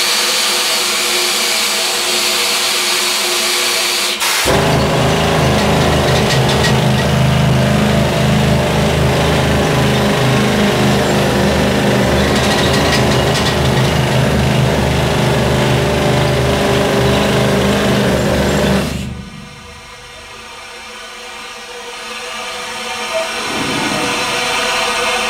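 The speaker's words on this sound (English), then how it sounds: "So all these drills do take a lot of physical strength" Mining drills run in an underground mine in a long, deafening, steady roar and rattle that lasts nearly twenty seconds, then cuts off abruptly, leaving a low echoing hum.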